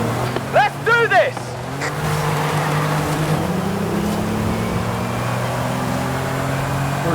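Car engine in Forza Horizon 5 holding a steady, loud drone at the start of a race, with a brief burst of speech and rising tones early on, then continuous engine roar to the end.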